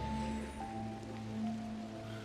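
Steady rain pours during a film scene as two characters shelter from the downpour, a continuous soft wash of drops under low background music tones, with no talking.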